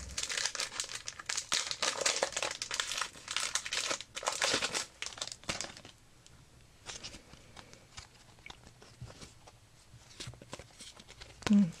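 A Wacky Packages sticker pack's wrapper crinkles and tears open up close, a dense burst of crackly rustling that eases into quieter, sporadic crinkles and small handling noises.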